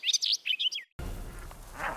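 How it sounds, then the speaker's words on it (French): A warbler sings a rapid, bright, twittering burst of chirps for about a second, fairly close, then the song cuts off into faint background noise. "La fauvette. Elle zinzinule ou elle babille."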